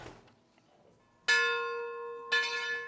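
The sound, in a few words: church bell ringing at Iglesia de San Antonio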